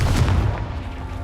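The explosive Confringo spell goes off in Hogwarts Legacy as a single loud, deep boom that fades quickly into a low rumble.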